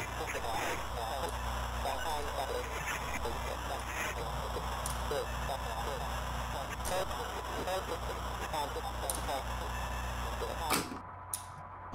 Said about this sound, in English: it just sounds like another one that's just white noise